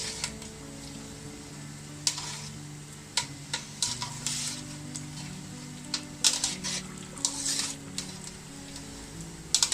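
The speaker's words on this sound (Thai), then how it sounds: "พอน้ำเดือดแล้ว เราก็เอาตับลงไปเลยนะครับ" Liver blanching in a pot of boiling water, bubbling with scattered sharp clinks and scrapes of a utensil, close by and irregular.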